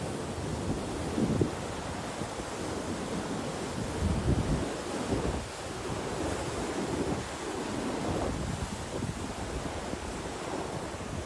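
Water rushing down a canal towards a river, breaking over large concrete blocks built to slow its speed and force; a steady, broad roar with surging swells, close and continuous, no voices.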